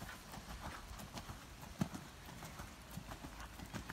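A horse canters under a rider, its hooves thudding on the ground in a steady three-beat rhythm, moderately close and fairly faint, with no talk over it.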